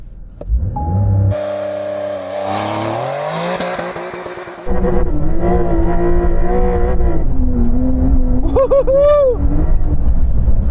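Porsche 911 Dakar accelerating hard on mud: a loud, close engine roar climbing steadily through the revs, with a brief gear-change break and tyre noise, then a high whining pitch sweep near the end.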